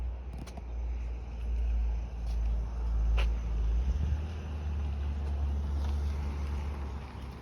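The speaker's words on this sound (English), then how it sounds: "I can sit here and watch the traffic go by" Road traffic passing a garden seating spot: a continuous low rumble that swells and fades as vehicles go by, with a few faint clicks over the top.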